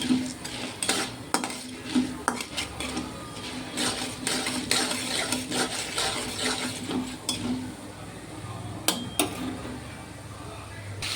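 Tomatoes sautéing in a pan for tomato chutney, with a metal spoon repeatedly scraping and clinking against the pan over a faint steady sizzle, while someone talks intermittently nearby.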